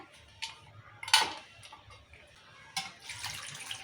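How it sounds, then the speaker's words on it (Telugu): Tamarind is rubbed and washed by hand in water, giving a few close, soft splashes and sloshes against a quiet background. "చింతపండు కూడా మంచిగా రాసి కడుకోవాలి"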